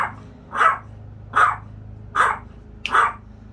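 A dog named Adam barks four times at a steady, evenly spaced rhythm, loud and fairly close, over a low background hum with no talking.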